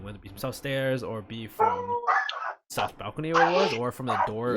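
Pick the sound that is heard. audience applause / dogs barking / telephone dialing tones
dogs barking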